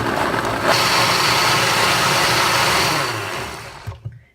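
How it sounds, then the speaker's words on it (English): A regular blender pureeing sweet potato, carrot and ginger soup roars steadily at close range for about three seconds, then winds down and stops, leaving a couple of soft knocks. "I'm going to use a regular blender, so I'm just going to puree this to start with."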